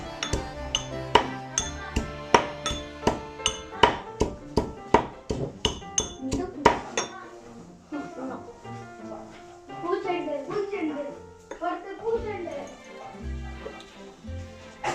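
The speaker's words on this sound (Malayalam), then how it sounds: "ഉരുളിയിട്ട് ഇടിച്ച് ഇടിച്ച് ചതച്ച് ഒരു പരുവാക്കി എടുക്കണം" Garlic pounded and crushed in a vessel, a run of sharp regular thuds with a metallic clink, about two per second, then someone talks over softer scraping and a few knocks.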